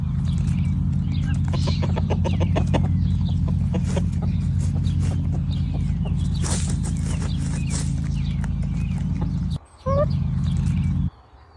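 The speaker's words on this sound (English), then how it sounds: "my chickens really enjoy them as well" Chickens in a garden, clucking and calling in repeated bursts over a steady low background hum, fairly close, with scratching and rustling and a brief gap near the end.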